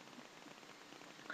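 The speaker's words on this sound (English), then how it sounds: "Don't know if you can hear, but it's raining outside" Steady hiss of rain falling outside a house, heard from indoors as a faint, even patter with no distinct drops or voices.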